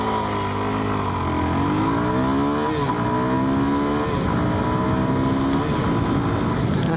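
A dual sport motorcycle engine revs up and pulls away, its pitch sweeping upward through several rising gear runs, loud and close with continuous engine drone and no talk.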